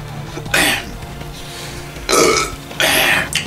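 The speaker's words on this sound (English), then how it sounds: "that little burp should actually help me out there" During a McDonald's burgers and sandwiches eating challenge, a man lets out several loud close burps in quick succession, with a throaty rasp, over a quiet background.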